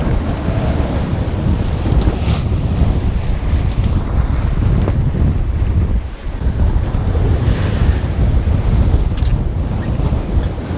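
Strong wind roars steadily across the microphone while waves crash around a sailboat in rough North Atlantic weather. The noise stays loud and continuous with no speech.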